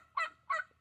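Turkeys on a homestead, Bourbon Red and Narragansett breeds, give three loud, throaty calls in steady succession, each a short burst with a brief gap between.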